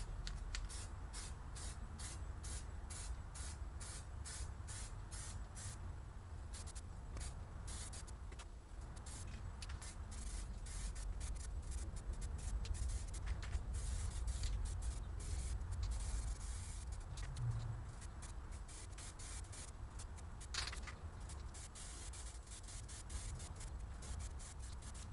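Primer sprayed onto the ground-down, curb-rashed edges of a car wheel comes through as faint, repeated short hissing bursts in a quiet, even rhythm.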